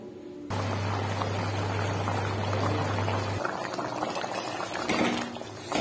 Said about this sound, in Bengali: এবার এটাকে লবণ চেক করে কিছুক্ষণের জন্য ফুটতে ছেড়ে দেব।